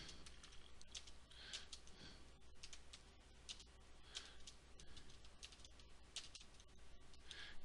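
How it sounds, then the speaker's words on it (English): Quiet, rapid tapping on a computer keyboard in irregular bursts, close by, with no talking. "Go ahead and finish typing it out here."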